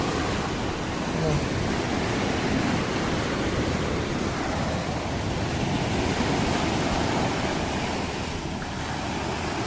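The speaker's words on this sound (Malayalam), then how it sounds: "രാത്രി ആകും തോറും തിരമാല അങ്ങനെ ശക്തിയായിക്കൊണ്ടിരിക്കും" Steady, loud roar of sea surf breaking on Snehatheeram Beach, Vadanappilly, continuous and unbroken throughout, with no voices.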